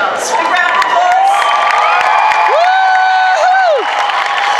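An audience at a cosplay championship claps and cheers, with whoops and loud rising whistles over dense, steady applause from a nearby crowd.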